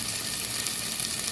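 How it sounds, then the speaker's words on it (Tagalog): Onion, tomato and garlic sautéing in a pan for a shrimp and vegetable dish, a brief, even, close sizzle of frying with no voices. "Onion, kamatis, garlic. Igisa hanggang sa bumango."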